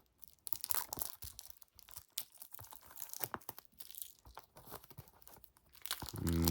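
Plastic shrink wrap being torn and peeled off a 4K Ultra HD disc case of The Terminator: close, quiet bursts of crinkling and ripping in irregular spurts, with no talking.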